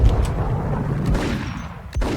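Gunfire in the Max Payne video game: a few sharp, loud shots spread across about two seconds, with no voices.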